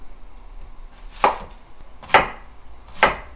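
A knife chops through onion coarsely on a cutting board while LA galbi marinade is prepared, giving three sharp, close, evenly spaced thuds against quiet kitchen background.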